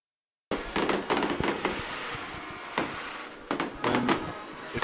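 Fireworks show at a high school football game: a rapid string of loud pops and crackles, with several sharp reports scattered over a few seconds against a constant noisy rumble.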